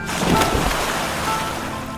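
Sea waves surging against a bank below a palace, a continuous close wash of surf and water noise with gusty wind running throughout and no voices.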